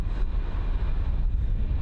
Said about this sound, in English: Really windy at the moment.